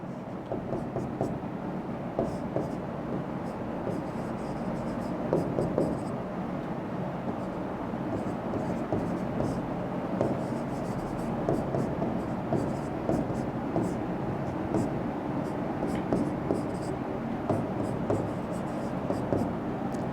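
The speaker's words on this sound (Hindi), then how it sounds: "आगे मैं यहां पे तब तक लिखता हूं।" A teacher writes on a board during a class, producing a steady run of short scratchy strokes that repeat throughout over a low background hum.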